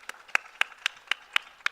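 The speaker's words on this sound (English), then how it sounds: "let's give them a round of applause" Audience clapping at an arts awards ceremony: seven sharp, evenly spaced claps or clap bursts about a quarter second apart, moderately loud in a quiet room, with no voices over them.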